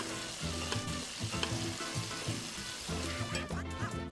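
Seasoned shrimp sear in a hot pan for paella, a steady close sizzle running throughout with soft clinks and stirring scrapes over the hiss and no voices.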